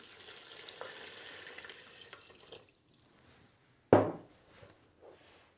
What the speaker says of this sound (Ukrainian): Я наливаю сюди воду.